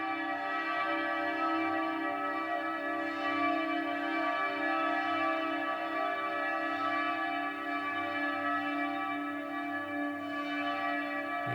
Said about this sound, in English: It's like a chorus of bells.